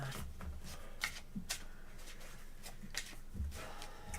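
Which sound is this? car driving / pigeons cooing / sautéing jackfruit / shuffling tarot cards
shuffling tarot cards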